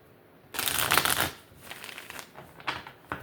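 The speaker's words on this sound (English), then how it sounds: "And let me shuffle." Tarot cards are shuffled close up, a quick riffling burst followed by softer flicks and taps as the deck is handled.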